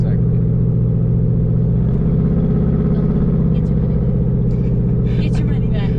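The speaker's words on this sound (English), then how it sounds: "The new trucks don't come with this exhaust setup to where they have different cats." A deep, loud truck engine rumbles steadily through its exhaust at idle, with a throaty low drone and faint voices briefly audible near the end.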